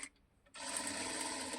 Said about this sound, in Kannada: ಈಗ ಮತ್ತೆ ಈ ಪೀಸನ್ನು ಇಟ್ಟು ಈ ರೀತಿ ಸ್ಟಿಚ್ ಮಾಡ್ಕೋಬೇಕು